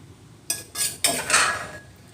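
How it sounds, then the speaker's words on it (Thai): A spoon scoops seafood dipping sauce into a bowl: a few close clinks and scrapes of utensil on dish in quick bursts, with no talking. "ตักน้ำจิ้มซีฟู้ดออกกันเลยจ้า"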